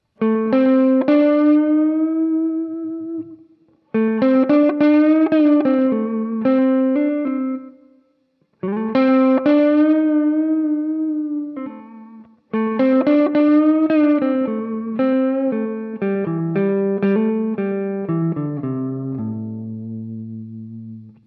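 A distorted electric guitar plays the pentatonic lead line of a song in phrases separated by short pauses, notes sustaining with vibrato and effects, ending on a fading low note.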